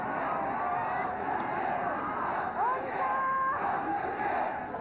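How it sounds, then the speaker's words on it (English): A wrestling crowd at an FMW vs Michinoku Pro match roars and yells in a sustained, excited wall of noise, with shrill whistles and shouts rising over it and a commentator talking underneath. "The crowd just going crazy, man"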